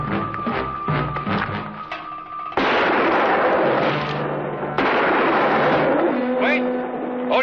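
Gunfire in a western TV drama scene: sharp loud bursts cut in at about 2.5 and 4.8 seconds over a dense, noisy dramatic soundtrack, with scattered shouting voices near the end.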